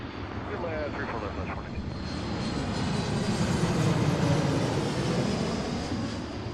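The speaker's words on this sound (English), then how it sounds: "This is a brand new 737 MAX 8 from Phoenix." A brand new Boeing 737 MAX 8 jet arriving on a runway at Seattle, a steady broad engine roar that swells gradually and stays loud throughout, heard from a distance with faint voices mixed in.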